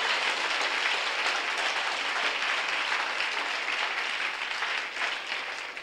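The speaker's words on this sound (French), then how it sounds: "Give the Lord a big clap." A church congregation at a worship service claps loudly and steadily for the Lord, a dense, continuous wash of applause that tapers slightly at the end.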